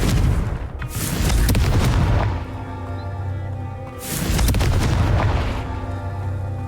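Two deep booming blasts from the Confringo fire spell in the Hogwarts Legacy video game, each a loud burst followed by a long rumbling decay, spaced a few seconds apart.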